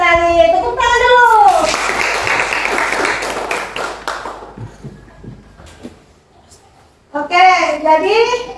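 A class of children claps together in a classroom, a dense burst of clapping lasting about three seconds, with children's voices speaking just before and after.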